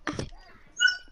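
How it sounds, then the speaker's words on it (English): A dog whimpers during a Fortnite game session with a short whine after a brief burst of voice, then a thin high-pitched whimper, heard close and moderately loud. "Sounds like a dog's whimpering."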